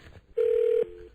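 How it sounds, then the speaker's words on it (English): A telephone rings on the line with a single steady, loud electronic tone lasting about half a second, followed by a quieter trailing tone. "It's ringing."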